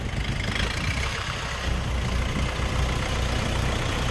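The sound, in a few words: truck engine idling as it drives up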